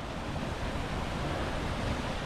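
Waterfall beside a valley campsite at dusk, a steady dense rushing roar of falling water, constant and fairly close throughout.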